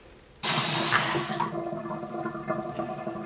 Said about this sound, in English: And let's wash it off.